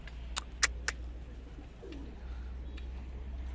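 Lost Punjabi chatri pigeon, held for three days in a village loft, giving a single brief low coo amid scattered sharp clicks and taps, fairly faint over a steady low hum.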